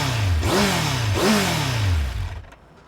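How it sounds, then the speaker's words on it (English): A 2003 Kawasaki Z1000 motorcycle, powered by an engine derived from the ZX9, revs hard twice in quick succession. Each loud blip climbs and falls away before the engine drops back to a quiet idle. "Now if that motor sounds familiar, that's because this is the old ZX9 motor."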